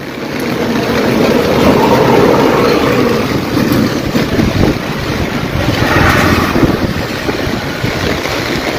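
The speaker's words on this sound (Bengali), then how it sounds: "প্রচুর বাতাস বেড়ে গেছে" Strong wind during two days of steady heavy rain in Cumilla buffets and roars continuously, loud and gusty, with a broad rushing hiss that swells and eases without any voices.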